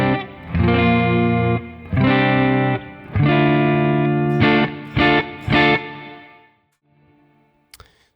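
Electric guitar played through a Matchless amp emulation pedal with built-in boost, ringing out in several loud sustained chords and a few short stabs, slightly driven and effected, then fading to near silence.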